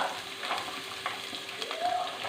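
Sliced onion sizzles softly in a pan, a low steady frying hiss broken by a few light utensil taps and scrapes.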